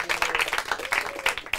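Audience applause for quiz teams at a Portuguese-language kaleidoscope competition, a brief burst of scattered hand clapping at moderate level with faint background voices underneath.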